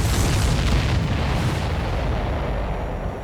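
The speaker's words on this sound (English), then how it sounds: "Did you see that explosion?" A large enemy supply ship blowing up in the Ace Combat 7 flight combat game, a loud sustained roaring blast with dense rumble that fills the whole stretch and slowly fades, no talk.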